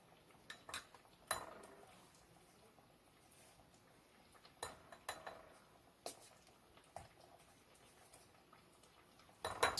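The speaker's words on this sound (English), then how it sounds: "Just stir that in there." A spoon stirs broth and cornstarch into a slurry for crockpot beef stew, making faint, scattered clinks and taps against the container with quiet pauses between them and a slightly louder burst at the end.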